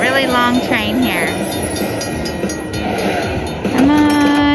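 Train-themed sound effects from a nickel slot machine bonus game ring out in a noisy casino, with chiming electronic tones and melodic jingles rising over the steady hum, while a person talks excitedly.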